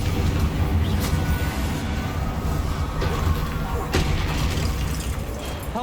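A Confringo fire spell goes off in Hogwarts Legacy as a loud, heavy blast with a deep rumbling roar that lingers for several seconds, with sharp crackling bursts near the start and middle.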